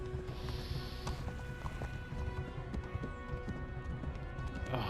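Horse galloping in the video game Kingdom Come: Deliverance, a steady run of hoofbeats close by under a busy game mix of music and ambience, with no talk.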